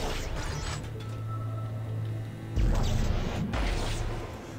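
A chair shoved away in the Dead Space 3 video game, a creaking mechanical scrape followed by a heavier scraping clatter, close and moderately loud over a humming background.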